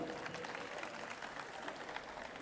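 A faint, steady patter of audience clapping at a Vande Mataram 150th anniversary gathering, continuous for a couple of seconds after a song performance.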